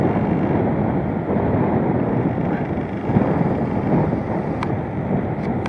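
Strong wind buffeting at the seafront of Port William in Galloway, a loud continuous roar that stays close and unbroken throughout, without speech.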